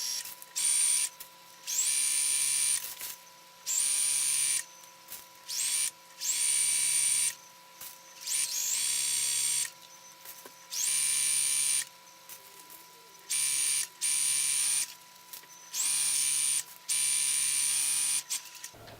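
Sewing machine stitching a rain skirt channel, running in repeated short bursts of steady motor hum with brief pauses between, close and alone.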